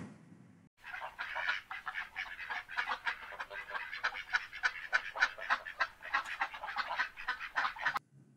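Several ducks quack and honk in quick, uneven succession, a busy chorus of nasal calls that carries on steadily for several seconds at moderate, fairly close range.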